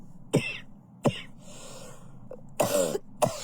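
Several sharp coughs ring out close by, spaced irregularly with a short throat-clearing rasp between them, in an otherwise quiet setting.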